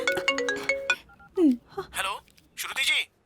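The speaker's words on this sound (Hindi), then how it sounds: "उसका फोन आ रहा है।" A mobile phone ringing with an incoming call in a Hindi-dubbed South Indian action film, a short melodic ringtone of bright tonal notes heard alongside talking voices.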